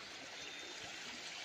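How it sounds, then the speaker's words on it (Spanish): A river in Jalisco, Mexico flows steadily as a broad, close rushing wash of moving water, constant and unbroken without voices. "Cruzamos este río."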